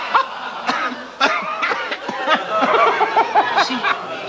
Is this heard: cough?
yes